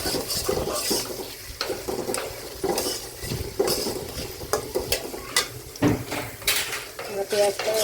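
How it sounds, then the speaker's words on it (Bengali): A spatula stirs onions frying in oil in a wok, with loud metallic scrapes and clanks in an irregular rhythm over a soft, continuous sizzle. "আমরা পেঁয়াজটা নাড়াচাড়া করে নেব"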